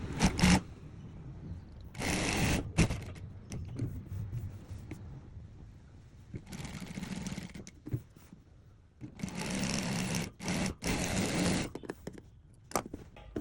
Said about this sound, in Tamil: இப்படியே தைக்க போகிறேன்.